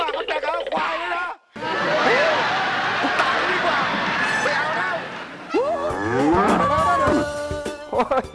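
Water buffalo moo loudly and often in a rural setting, with long bellowing calls that overlap voices and other farm noise all the way through.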